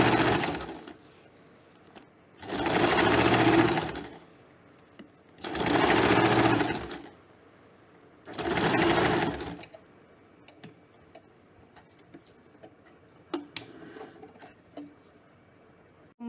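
A sewing machine stitches elastic onto a waistband in three loud bursts of whirring, each a few seconds long, separated by quiet pauses, with a few light clicks and rattles near the end.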